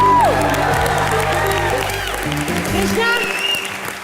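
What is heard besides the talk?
audience applause and cheering for Bharti and Karan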